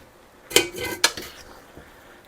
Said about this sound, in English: And just mix it into the sauce.